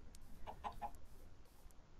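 A Minecraft chicken gives a quick run of three soft, high clucks in the first second, then falls quiet against a low background hum.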